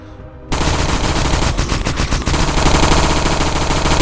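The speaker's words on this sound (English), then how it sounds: "Now I can plop down the turret, and I'll show you the difference that makes." An automatic turret deployed in the retro sci-fi shooter SpacePunk opens fire after a short pause, pouring out loud, continuous rapid gunfire that runs steadily to the end with no talking.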